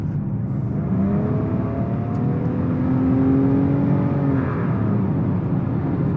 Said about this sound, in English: if you're just kind of driving along like this and you're already started and you need to accelerate